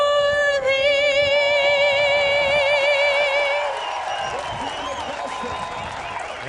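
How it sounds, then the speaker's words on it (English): Crowd at a men's rugby union test match between Russia and Canada in Calgary, loud sustained applause and cheering as a sung anthem's final held note fades out. "And the crowd is amped up here again."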